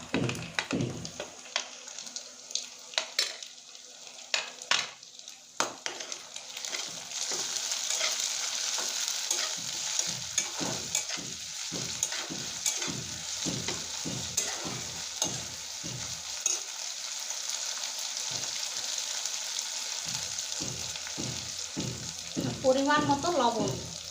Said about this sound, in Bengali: তখন আমি পেঁয়াজটা ভেজে নিয়েছি এখন আমি দিয়ে দিচ্ছি রসুন বাটা আর দিয়ে দেবো আদা বাটা